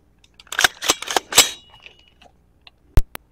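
Gunshots from hollow-point-style target rounds fired into plumber's putty: several loud sharp cracks in quick succession, then a pause and another sharp report with a small follow-up click, close and dry with no talking.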